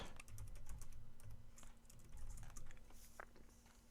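Rapid, soft clicking keystrokes on a computer keyboard as a password is entered, an even close patter of taps with a brief pause near the end.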